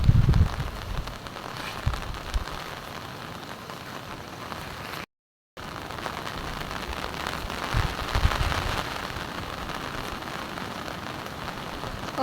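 Heavy rain from Typhoon Aghon pours steadily near a swollen, muddy creek, a loud continuous hiss with a brief dropout partway through.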